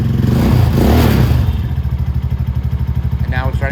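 A 250cc Venom X22R motorcycle engine, freshly started after a carb clean following two years in storage, rumbles up loudly, then settles into a steady, close idle with rhythmic pulsing.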